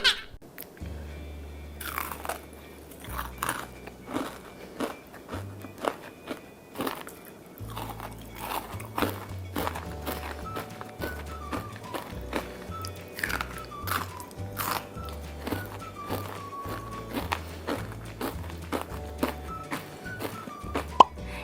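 Crunchy cherry blossom kohakuto candy made with real salted cherry blossoms, bitten and chewed close up in a long run of sharp crisp cracks and crunches, irregular and loud against a quiet background.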